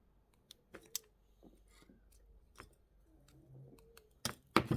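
Jewellery wire is snipped with cutters while a bead ring is assembled, giving a few faint, sharp clicks spaced irregularly in an otherwise quiet room.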